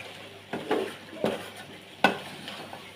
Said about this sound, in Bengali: সয়াবিনটা ভুনা করে নেব